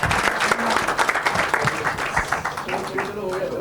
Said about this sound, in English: can we have a very huge loud applause for them?